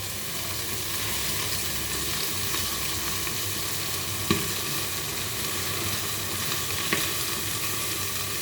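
Okra frying in a pan with a black cumin tempering, a steady close sizzle throughout with a couple of brief stir clinks, no talk.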